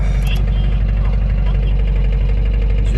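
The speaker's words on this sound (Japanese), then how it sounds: "カタカタとエンジンを叩く音がします。" Subaru Impreza STI Spec C engine idling with a rapid, even knocking tick over a steady low hum, the engine worn at high mileage; a voice speaks over it.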